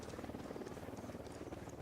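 A military helicopter in the video game Ghost Recon Wildlands gives a dense, steady rotor and engine roar throughout, moderately loud, with no gaps.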